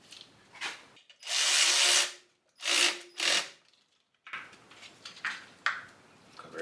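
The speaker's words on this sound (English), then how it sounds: "then of course we're going to put our nut there and tighten it" Close ratchet clicks come in three strong bursts of rapid ratcheting as a 10 mm nut is tightened on the alternator of a 1998 Honda Accord, followed by quieter handling and clicking.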